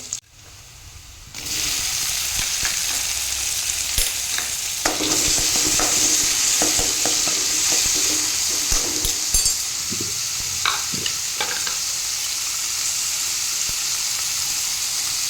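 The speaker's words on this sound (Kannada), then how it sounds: "ಇವಾಗ ಈರುಳ್ಳಿ ಸ್ವಲ್ಪ ಬಾಡಿಸಿ ಆಯಿತು, ಇನ್ನು ಇದಕ್ಕೆ ಟೊಮೆಟೊವನ್ನು ಹಾಕ್ತೇನೆ." Onions and tomato fry in a pan, a steady loud sizzle running throughout with scattered scrapes and clinks of a spoon stirring against the metal, close up and with no one talking.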